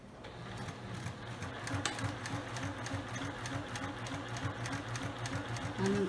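A sewing machine stitches the lining opening of a fabric storage box, a steady close whirring and rapid needle clatter running continuously, ending with a brief back stitch.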